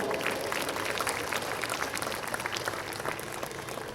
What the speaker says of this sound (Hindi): एक बार जोरदार अपने लिए तालियां बजा लीजिए।